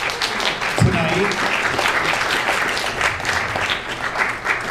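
Audience applauding a projectionist at a 35mm film screening during a Paul Verhoeven tribute, steady dense clapping throughout with a brief low thump near the start.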